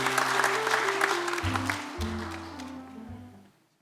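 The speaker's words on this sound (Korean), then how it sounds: "그래서 더 잘하도록 박수로 환영을 하도록 할게요" A congregation claps to welcome a newly ordained Jesuit priest at his first Mass; the clapping is loudest at the start and thins out under sustained organ-like tones before fading to silence.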